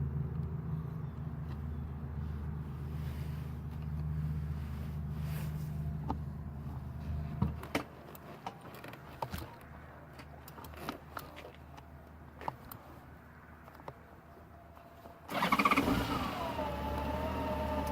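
A Honda GL1800 Gold Wing motorcycle engine idles and runs steadily at moderate volume, with a sharper revving swell near the end as the bike pulls away.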